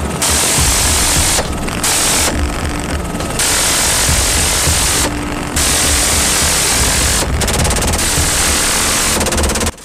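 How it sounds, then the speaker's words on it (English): Loud, sustained rapid-fire gunfire from an M134 minigun firing 6,000 rounds per minute, roaring as a continuous buzzing stream, broken by several brief pauses between long bursts. "the minigun is a versatile and battle-proven weapon"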